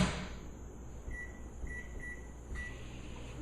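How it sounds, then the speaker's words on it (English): Microwave oven running while heating a cup of coffee: a steady low electrical hum with a fan whir, broken by a few short high beeps near the middle, close and fairly quiet with no talk. "we'll run the microwave for 22 seconds"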